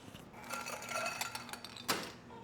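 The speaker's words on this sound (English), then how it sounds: "Ice. Give it a good stir." A bar spoon stirs an Old Fashioned made with Turkey 101 bourbon over ice in a glass, giving a steady run of soft clinks and rattles with one sharper chink, close and fairly quiet.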